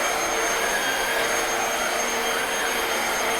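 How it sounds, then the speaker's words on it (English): A Black+Decker cordless vacuum cleaner runs at its max setting on carpet, a steady loud high whooshing roar that holds unchanged throughout, close up and alone. "This vacuum almost pulls you because it spins so fast."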